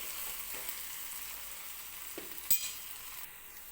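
Grated ginger fries quietly in oil, a faint, steady sizzle with a couple of soft clicks and a sharp tap near the middle, no voices.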